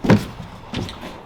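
Storage drawer on a Toyota 79 Series LandCruiser VDJ79 V8 overland build sliding shut with one firm thunk, followed by a softer second knock, close and alone.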